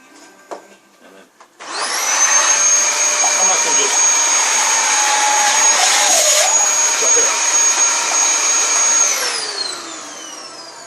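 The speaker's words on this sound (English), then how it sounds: "She loves being brushed with the Dyson." A Dyson vacuum whines loudly and steadily as it brushes loose fur from a Golden Retriever during a trim, starting abruptly after a few soft knocks and tapering off at the end.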